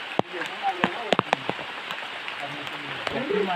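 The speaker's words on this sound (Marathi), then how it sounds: "पाऊस तरी कमी होती जरा." Steady rain patters on surfaces outdoors at night during the season's first monsoon rain on a crab-catching outing, with a few sharp knocks near the microphone and faint voices.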